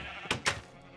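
Sheep bleat in the video game Minecraft, two short close bleats in quick succession over a quiet background.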